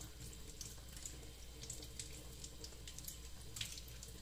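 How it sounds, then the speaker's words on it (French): Tap water runs steadily into a sink while makeup brushes are rinsed beneath it, a continuous close splashing stream at low level with no talking. "Voilà, on rince. On rince bien."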